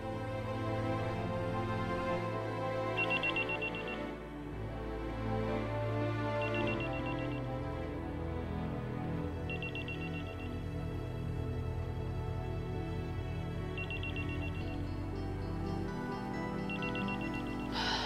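A phone call's ringing tone repeats in short, evenly spaced bursts every few seconds, sitting faintly over a soft musical background in an Indonesian TV drama scene.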